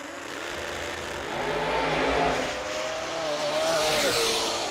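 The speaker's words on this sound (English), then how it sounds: "So can we see the lone turbo car in the field?" A turbocharged small-block drag racing car makes its pass at a drag strip event, a loud sustained engine roar that swells and holds over several seconds with a rising whine.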